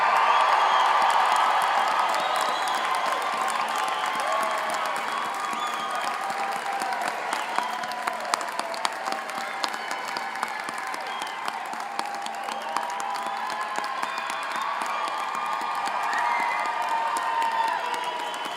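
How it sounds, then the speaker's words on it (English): A graduation ceremony crowd cheers, claps and whoops loudly at a university commencement, a dense, sustained roar of applause and shouting that holds steady for the whole stretch. "I want to give you 10 seconds to cheer as loudly as you can."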